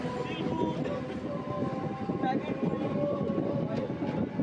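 A Howrah–Tarakeswar local train pulls out of Kamarkundu station with a steady, moderately loud rolling rumble and a faint continuous hum inside the carriage, with soft background voices.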